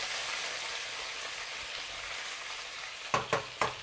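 Sliced ginger frying in hot oil with chicken wings for a braised dish, a steady close crackling sizzle, with three sharp spatula knocks against the pan near the end.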